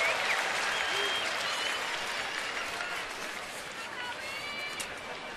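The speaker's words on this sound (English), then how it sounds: "there's a strike, first one today, and the fans applaud" Baseball fans in a stadium at an Angels-at-Orioles game in September 2011 applaud a called strike. The applause is broad and steady and fades slightly, with a broadcaster talking over it.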